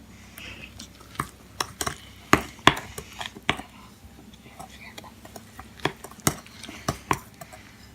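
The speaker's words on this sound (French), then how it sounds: "Allez, je vais mélanger un petit peu." A utensil stirs yogurt cake batter in a bowl, making irregular close clinks and scrapes against the bowl, with soft voices talking and whispering in between.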